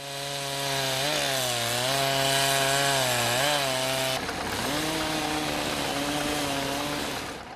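A chainsaw roars close by in snowy Russian forest at minus 30°C, its engine pitch rising and dipping as it bites into a tree, then shifting to a rougher cutting tone partway through.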